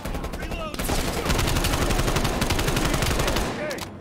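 Automatic gunfire in Black Ops Cold War, loud and sustained rapid shots rattling close by for several seconds before trailing off, with voices faintly underneath.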